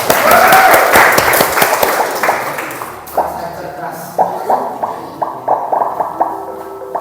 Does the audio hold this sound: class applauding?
yes